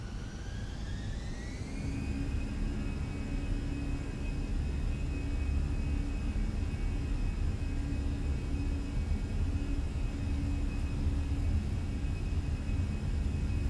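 Airbus A320 jet engines spooling up for takeoff in Microsoft Flight Simulator, a steady roaring rumble with a whine rising in pitch over the first seconds, then holding a constant loud drone.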